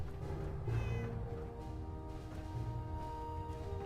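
A cat in the Fallout 4 video game meows in a drawn-out, close, plaintive call, repeated over a low ambient background hum.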